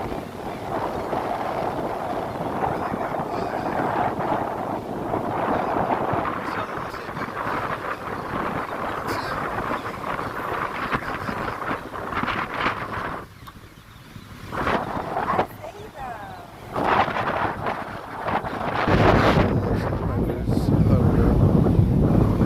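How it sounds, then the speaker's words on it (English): Gusty wind buffets a camera microphone outdoors at a beach end where birds gather, a steady loud rumbling roar with brief lulls and renewed bursts, and faint voices mixed underneath. "You can probably hear the wind in the camera right now."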